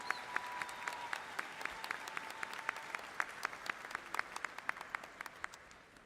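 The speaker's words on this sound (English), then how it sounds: "Let's give them another big round of applause as they accept their degrees." Scattered applause rises from the crowd at a Southern Illinois University spring commencement as graduates accept their degrees, with distinct individual claps standing out over a thin, fading patter of hands.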